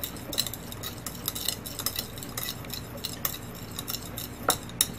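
A spoon stirs a sauce mixture in a container, producing a quiet, irregular run of light scraping and clinking taps against the sides over several seconds.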